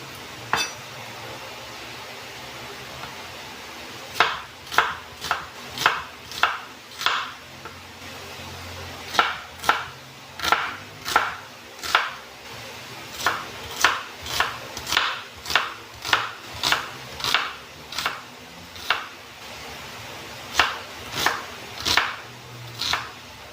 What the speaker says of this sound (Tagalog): Iwa tayo ng sibuyas.